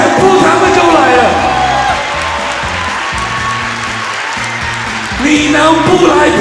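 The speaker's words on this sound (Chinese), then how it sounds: "大家给他掌声鼓励一下" A crowd at a strongman competition in Taiwan claps and cheers loudly, mixed with whoops and an announcer speaking over the noise; the applause surges again near the end.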